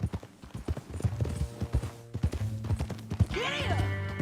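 Horse hooves clip-clop in rapid galloping beats over a dirt trail in the video game Red Dead Redemption II, with a musical score and a swelling melodic tone rising over the steady hoofbeats.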